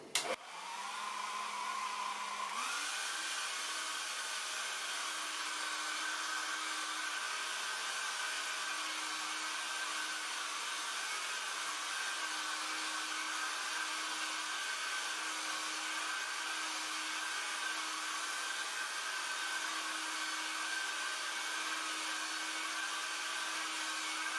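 A heat gun blows steadily on the plastic casing of an Acer G245HQ computer monitor, a constant loud whooshing drone with a brief lower-pitched start before settling into an even hum.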